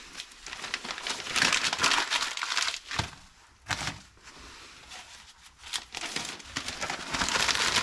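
Paper is crumpled and crinkled up close in bursts of rustling to start the fire for a maple syrup boil, with short pauses between the handfuls.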